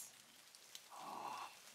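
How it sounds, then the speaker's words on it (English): Rain falls on a cold rainy day, a faint, soft hiss that swells slightly partway through, with a couple of tiny tapping drops and no voices. "what is Jill wearing on this cold, rainy day"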